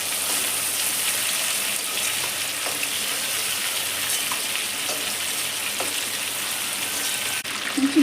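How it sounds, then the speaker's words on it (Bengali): Prawns frying in hot oil in a pan: a continuous, loud crackling sizzle holding steady throughout, with occasional pops and a faint clink near the end, no talking. "দেখুন এবার চিংড়ি মাছটা আমি দিয়ে জাস্ট 1-2 মিনিট ভেজে নিয়েছি।"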